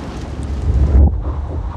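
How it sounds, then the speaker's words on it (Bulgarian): Wind gusts roar against the microphone, swelling to a heavy rumble before easing off into a softer rush. "и да слушам вятъра."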